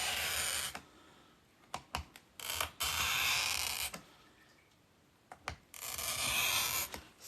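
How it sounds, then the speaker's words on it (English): Scoring and snapping squares from a sheet of fused glass, heard as long bright scraping strokes broken by sharp clicks and taps, close and fairly loud with quiet gaps between passes. "So I'm going to cut some squares."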